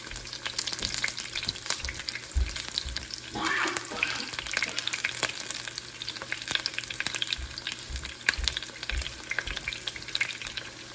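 Turkey wings searing in a pan, a steady sizzle and frying hiss that runs throughout with a few stirring sounds near and clear, no talking.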